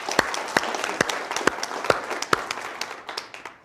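A conference audience at a voting and elections summit bursts into applause, a dense run of claps with a few sharper hits that thins out over a few seconds.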